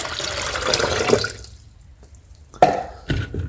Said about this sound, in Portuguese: Vou acrescentar mais água para aumentar o volume.